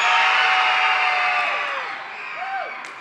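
Fans at an outdoor city anniversary concert cheer and scream in a loud sustained roar, with shrill individual whoops rising above the crowd noise before it gradually eases off.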